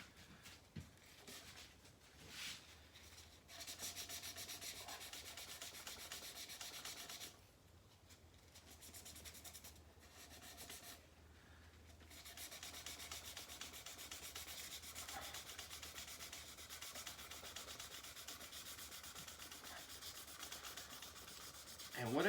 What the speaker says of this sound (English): I'm not just wiping it off, I'm giving it a good scrub